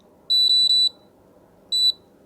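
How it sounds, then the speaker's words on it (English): A Runcam2 4K onboard camera powers on with a high electronic beep: three quick tones in a row, a short pause, then one more tone, all clear and close over a faint background hiss. "gives a beep, turns on"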